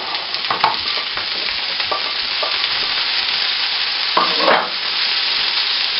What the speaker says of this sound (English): And I'd saute the broccoli and the onions together.